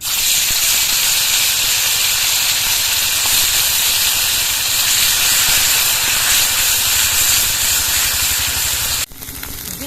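Ground spice paste frying in hot oil in a kadai with whole cumin, for a broccoli dish, gives a loud, steady hiss that runs on without a break and cuts off sharply near the end.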